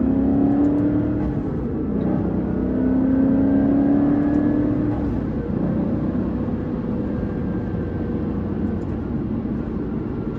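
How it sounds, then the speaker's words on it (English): A Maserati 4200 F1 Cambiocorsa is driven outside sport mode, its engine holding a steady, loud drone with rising tones as it accelerates and shifts through the gears, heard from inside with no talking. "I'm gonna take it out of sport mode, and I'm gonna stop talking."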